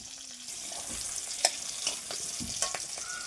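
Black cumin seeds fry in about two tablespoons of mustard oil with a steady, close sizzle, while a utensil stirs them and a few sharp clicks and scrapes break through the hiss.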